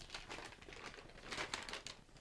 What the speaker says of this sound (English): And you're going to cut that out.